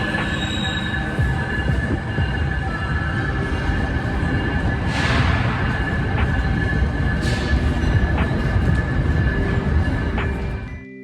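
A train rolling past on rails, loud and close, with a continuous heavy rumble and high metallic wheel squeals rising at intervals throughout.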